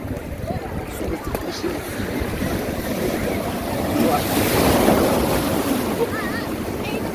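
Sea waves wash and surge steadily during a baptism in the sea, mixed with wind buffeting the microphone, building to a louder swell midway.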